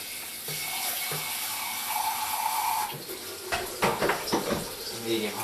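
A tap runs medium hot water into a pot for brewing a ginger beer kit, a steady hiss of flowing water followed by clinks and knocks of the pot and stirring.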